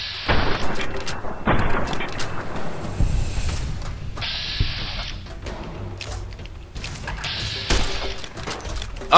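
Gunfire in the video game Fallout: New Vegas comes as loud, sharp bursts and booming shots in irregular clusters, some shots ringing out with a metallic crack, and a voice speaks between them.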